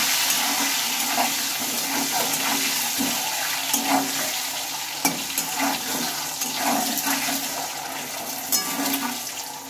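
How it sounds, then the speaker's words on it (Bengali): Egg frying in a little oil with salt and turmeric, a steady close sizzling hiss with faint crackles and a few brief utensil clicks, no voices. "ডিম ভাজাটা হয়ে গিয়েছে, এখন এটা আমি তুলে নেব।"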